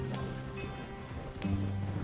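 A galloping horse in the video game Red Dead Redemption 2 gives a steady, rapid clip-clop of hooves under a busy game soundtrack with a bright, dense mix.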